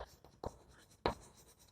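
Chalk or marker strokes on a board during a physics lecture on capacitors: a few short, sharp scrapes spaced apart, the last one loudest, over a quiet room with no talking.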